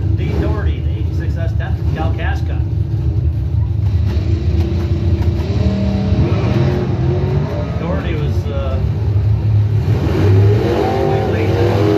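A drag racing car launches and accelerates hard down the strip, its engine revving loudly while a track announcer talks over it.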